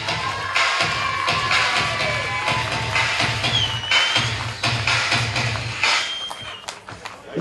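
A crowd at an equestrian pony show prize-giving applauds and cheers the medal winners, with steady clapping, scattered shouts and children's voices filling the space throughout.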